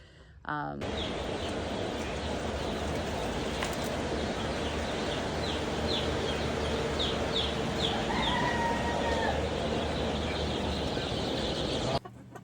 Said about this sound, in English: I'm in the chicken coop